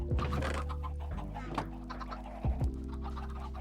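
Minecraft chickens cluck in a survival-game chicken farm, a few soft repeated clucks with muffled thunks as the birds get pushed under a slab, fairly close and without talk.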